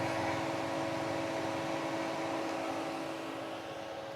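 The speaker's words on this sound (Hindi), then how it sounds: "उसका जो कूलिंग फ़ैन है उसकी आवाज़ आ रही है" Cooling fan of a Tata Nexon EV Prime running, a steady whirring hum with an even broadband rush and a constant tonal drone, unchanging and close throughout.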